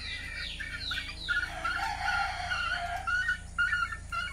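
Sweater and Gilmore gamefowl chickens in a breeding pen, several close rooster crows and clucking calls overlapping one after another against a steady low background hum.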